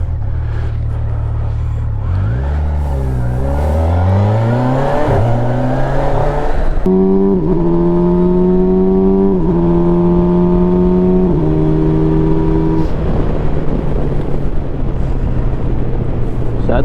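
A Kawasaki Versys 1000 SE motorcycle accelerates hard with its quick shifter, the engine note climbing through several quick upshifts under loud wind noise before settling into a steady drone.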